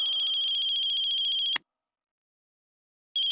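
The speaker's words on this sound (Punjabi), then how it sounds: "ਸਰਦਾਰ ਜੀ ਪਹਿਲਾਂ ਫੋਨ ਸੁਣ ਲਓ" A telephone ringtone trills loudly in a Punjabi comedy film, stops abruptly after a burst, goes silent for over a second, then starts ringing again. No one speaks.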